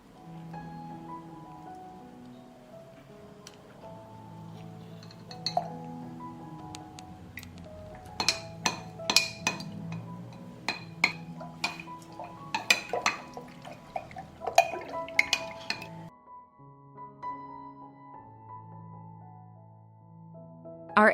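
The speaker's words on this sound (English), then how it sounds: "I will mix 2 tablespoons of slaked lime in 700 milliliters of water." Slaked lime powder is stirred into water in a glass jar, giving scattered sharp clinks of a spoon against glass and soft liquid sloshing, irregular and close, with quieter pauses between bursts of stirring.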